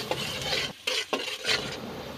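Chopped onion fries in oil and ghee in a pan. A loud, close, steady sizzle is broken by a couple of brief stirring pauses.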